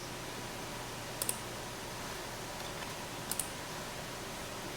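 A computer mouse clicked twice on an on-screen Next button, each a crisp double tick, faint against a quiet hiss.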